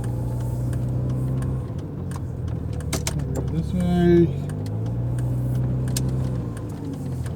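A SAAB 9000 Turbo driving around the block, its engine a steady low hum inside the cabin with a brief mechanical whir midway, under a short remark from the driver.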